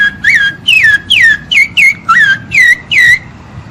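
Parrot imitating the song of the rufous-bellied thrush: eight clear, loud whistled phrases in quick succession, each a short rising-then-falling note, spaced evenly over a few seconds with no talk.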